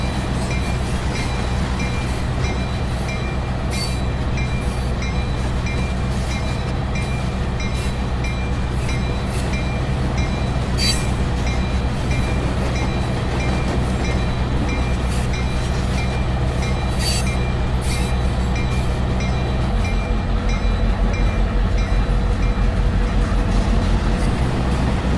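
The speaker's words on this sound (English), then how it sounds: "The locomotive switches the 5 cars onto Main 1" A model railroad locomotive on a layout switches five cars onto the main line, giving a continuous low rolling hum and clatter with intermittent clicks and faint squeals from the wheels, steady throughout with no talk.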